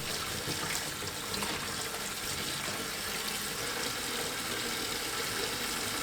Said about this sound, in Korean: 고추를 씻어주세요.